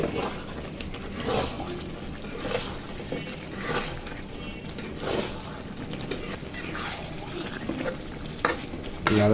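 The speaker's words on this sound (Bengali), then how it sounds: "নাড়া দিয়ে এখন নামিয়ে ফেলবে।" Chicken curry is stirred in a pan as it finishes cooking, a close repeated scraping and soft sizzling in slow sweeps, with no talk.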